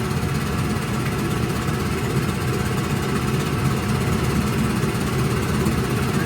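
A 1954 Johnson CD-11 5.5 hp outboard motor idles steadily in a test tank, a continuous low, even engine drone with a faint rumbling vibration running unchanged throughout.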